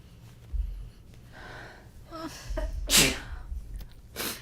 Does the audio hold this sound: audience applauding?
no